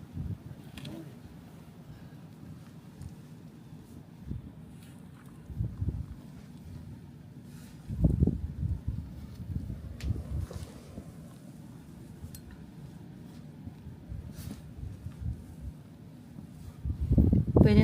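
Strong wind during a snowstorm on Long Island, New York: steady low rumbling buffeting against the microphone, swelling in heavier gusts, with a person talking intermittently.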